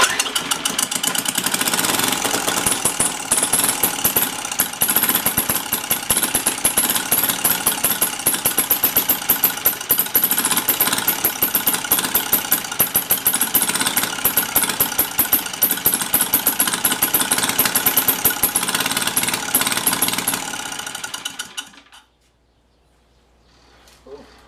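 A flathead valve engine runs hard for about twenty seconds after a valve adjustment, revving with added throttle in a loud, steady roar with rapid firing pulses before abruptly cutting out to near silence.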